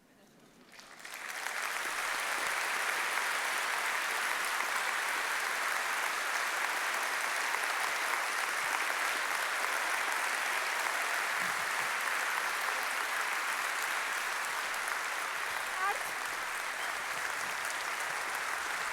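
Audience applause for the winner at the 2019 Astrid Lindgren Memorial Award ceremony, swelling within a second from quiet into sustained, even clapping from a large hall that holds steady to the end.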